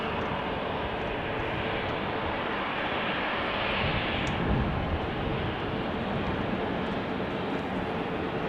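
A jet airliner roars during takeoff at Amsterdam Schiphol airport, a steady, loud, broad engine rumble that swells slightly midway and lasts throughout.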